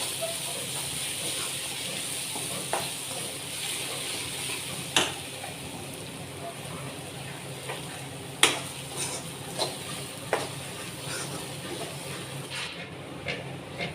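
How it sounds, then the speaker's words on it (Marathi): Onion and tomato masala sautés in a pan with a soft continuous sizzle and hiss, broken by sharp spatula scrapes and taps against the pan at irregular moments, close and without talk. "छान असं मिक्स करून ह्यालाही दोन मिनटं छान असं परतवून घेऊया"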